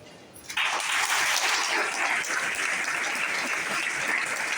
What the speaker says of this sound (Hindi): तालियां कम बज रही क्योंकि कार मेरी है, ताली आप क्यों बजाओगे?